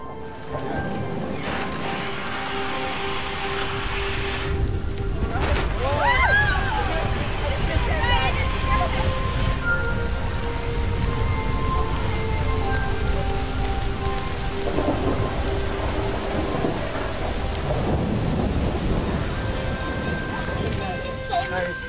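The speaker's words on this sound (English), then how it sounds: "And it's raining, which is auspicious for Dharma." Heavy rain pours steadily on surfaces while thunder rumbles low and long, with a bird chirping briefly and voices faintly present.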